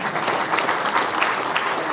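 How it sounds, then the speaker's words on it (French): Dense applause from an audience at a New Year's greetings ceremony in Auterive, many hands clapping steadily and loudly, a continuous crackling wash with no voices over it. "vous pouvez vous applaudir"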